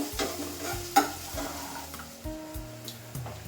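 Onion frying in hot oil for a dal tempering, a steady close sizzle with some stirring and a sharp clink near the start, then a few more bursts of stirring.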